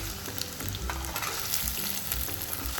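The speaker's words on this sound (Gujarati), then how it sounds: "તેલ ગરમ કરીશું, પછી એમાં નાખીશું લસણ, આદુ અને મરચાંની પેસ્ટ" Garlic, ginger and chili paste sizzles steadily in hot oil, a dense continuous crackle close up with faint spoon scrapes and no talk.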